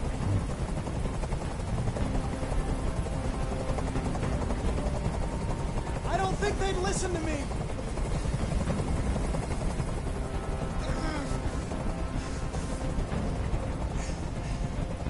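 A steady helicopter drone from the video game Detroit: Become Human fills the background throughout, with a voice speaking briefly over it.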